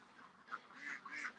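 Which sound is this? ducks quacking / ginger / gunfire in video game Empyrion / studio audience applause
ducks quacking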